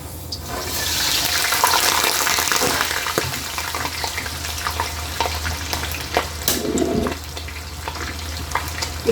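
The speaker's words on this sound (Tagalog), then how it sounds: "Prito na natin muna ang atay," Liver fries in a hot pan with a steady, close sizzling hiss and scattered sharp crackles and pops, and no voices.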